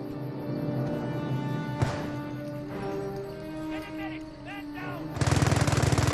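Machine gun emplacement firing in a war video game, a rapid burst of automatic fire starting near the end, loud over a busy battlefield soundscape of engines, clanks and distant explosions.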